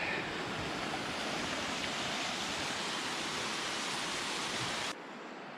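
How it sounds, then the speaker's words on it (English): Broadband rushing water of Coal Creek on a backcountry tramp, a steady close roar with no voices, cutting to a quieter hiss near the end. "Coal Creek."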